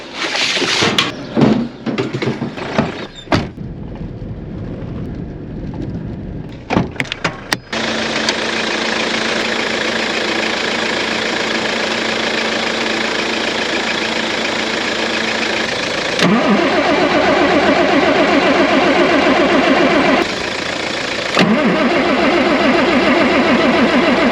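A John Deere combine engine, jump-started across the starter motor, cranks with sputtering bursts, then catches and settles into a loud steady idle that steps up in revs twice, with no talk.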